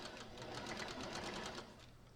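A sewing machine stitches quilt pieces together with a fast, even run of needle strokes that holds steady and close throughout, with no talking.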